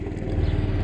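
Close, loud engine drone of a Kymco Agility 50 scooter with a sluggish carburetor, running steadily with a rough, pulsing low rumble for under a second.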